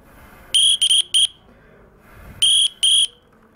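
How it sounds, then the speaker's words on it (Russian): Shrill electronic whistle tones from an Android smartphone whistle app sound in short bursts: three quick blips, a pause, then two more, over faint breathy noise of air blown at the microphone. "и вот такой свист происходит."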